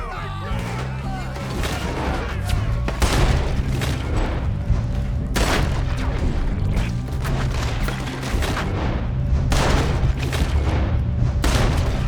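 Gunfight in the Western video game Red Dead Redemption, with loud, close shots and booming blasts fired in rapid bursts and scattered single reports. Shouting voices and game music run underneath throughout.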